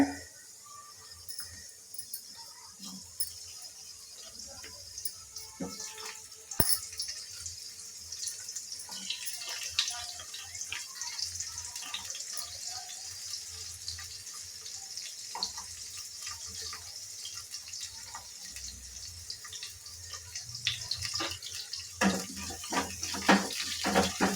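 Onions and spices fry in hot oil in a home kitchen, giving off a continuous, fairly loud crackling sizzle that holds steady throughout, with no voices.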